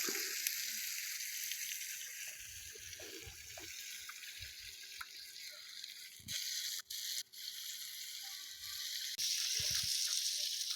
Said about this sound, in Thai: นี่คือเบคอนกำลังย่าง ด้วยหม้อกระทะ